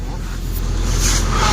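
A loaded tempo truck pulls away with a steady, close engine rumble that rises slightly in level, alone with no talk.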